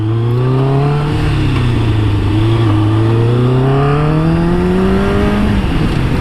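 A Kawasaki ZZR1100 sport motorcycle accelerates hard from a near stop, its engine note rising through the gears in repeated climbing sweeps with brief dips at each shift, loud and close, with steady wind noise and no talk.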